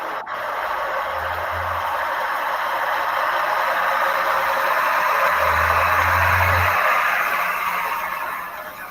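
A tractor works a no-till maize and wheat field in northern Mexico, its engine a steady broadband roar close by with a faint rattle and low rumbling pulses, holding throughout.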